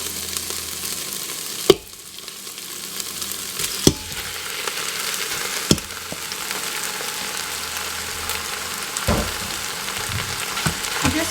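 Beef sizzling as it browns in a hot pan with softened onions, a steady loud frying hiss broken by a few sharp clicks of stirring or utensil contact.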